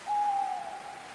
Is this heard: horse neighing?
no